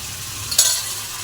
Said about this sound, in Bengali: মশলাটা এখন আমরা কষাচ্ছি, কষিয়ে নেব একটু ভালো করে যতক্ষণ না তেল ছাড়ছে মশলা থেকে